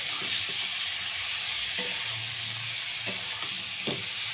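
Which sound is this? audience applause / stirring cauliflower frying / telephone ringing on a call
stirring cauliflower frying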